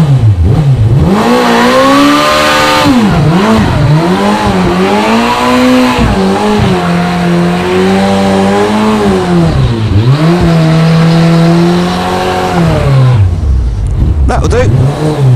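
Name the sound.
motorbike doing a burnout, engine revving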